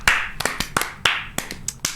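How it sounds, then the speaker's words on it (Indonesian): Hand clapping on an Indonesian comedy talk show, close and loud. About eight sharp claps come in a slightly uneven rhythm, with no talking over them. "Yaudah Kling, tepuk tangan."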